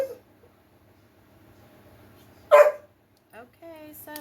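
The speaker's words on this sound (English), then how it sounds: "My dogs are being a little rowdy." Dogs indoors give one loud sharp bark and then a few whimpering yips, breaking into an otherwise quiet room with a faint voice in the background.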